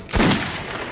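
A single burst of gunfire from the video game Metro 2033 Redux, loud and close, with a sharp crack followed by a short decaying rumble.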